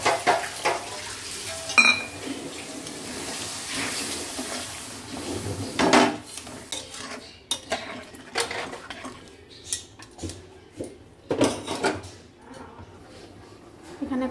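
Water poured into matar paneer curry in a pan, followed by repeated scraping and clinking of a spoon against the pan as it is stirred, with a soft sizzle beneath the uneven clatter.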